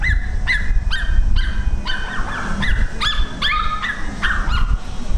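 Close, loud, repeated barking from a dog at a roadside rest stop during a street monkey show, the barks coming in quick rhythmic bursts over a steady outdoor background.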